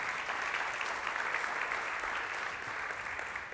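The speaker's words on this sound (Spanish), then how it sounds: "Le das aplauso fuerte al Señor" A church congregation at a Sunday service claps in steady, sustained applause, a broad wash of many hands heard from some distance, moderately quiet and unbroken.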